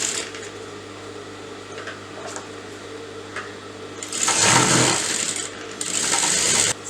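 A sewing machine stitches blouse fabric in short bursts, a rapid close mechanical chatter that starts, pauses briefly, then resumes, over quiet room noise with no speech.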